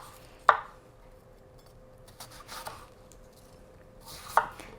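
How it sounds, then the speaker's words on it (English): A knife slices through an apple into quarters on a cutting board, with two sharp chopping knocks spaced a few seconds apart and a soft rustle of handling between them, close and alone without talk. "So I'm going ahead and I cut it in 4s."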